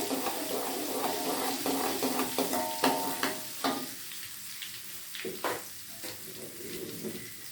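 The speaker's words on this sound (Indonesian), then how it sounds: "Nah, ya, saya tumis dulu." Sautéing in a pan while cooking mangut ikan kuwe: a steady hiss of frying under repeated scraping and stirring strokes, with a few clinks of a utensil against the pan.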